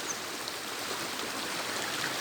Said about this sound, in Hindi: ये सारा बर्फ़ का पिघला हुआ पानी है जो कि सर्दियों में पड़ती है